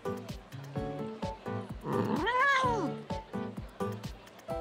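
A cat that stole fish in the game Princess Connect Re:Dive lets out a long wavering yowl over upbeat rhythmic background music, moderately loud, with no talking.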